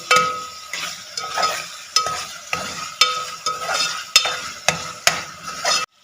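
Chicken fries in a pan for moong dal chicken as a spoon stirs it in a regular rhythm, about a dozen close, distinct scraping strokes over a continuous sizzle.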